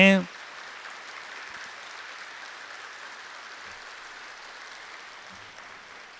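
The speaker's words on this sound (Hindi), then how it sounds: "सभी जोरदार तालियां बजाएंगे, जोरदार तालियां बजाएंगे अच्छी तरह से" A crowd at a yoga session applauds, a sharp burst at the start settling into a steady wash of clapping that carries on evenly for several seconds.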